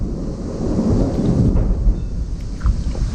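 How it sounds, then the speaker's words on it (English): Thunder rumbles low and heavy through a thunderstorm in Jefferson, Wisconsin in August, a continuous rolling roar filling the whole stretch, with faint rain spatter mixed in and no voices. "This is the best thunder from a thunderstorm."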